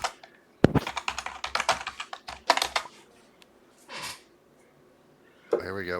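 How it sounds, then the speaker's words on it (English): Rapid typing on a computer keyboard comes in close, clattering bursts of keystrokes with short pauses between them, and a voice is briefly heard near the end. "Sorry, I'm just typing."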